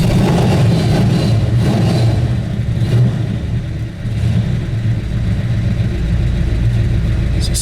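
An old four-speed car's engine idling at about 1,000 RPM, a loud steady low rumble with slight rhythmic unevenness, continuous and close up, with no talking.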